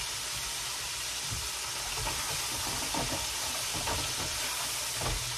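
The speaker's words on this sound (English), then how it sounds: "You're just gonna lightly coat it and you're gonna throw that into your skillet." French bread, thick sliced and lightly coated, sizzles steadily in a skillet over medium heat, a continuous close frying hiss with faint scattered crackles and no talking.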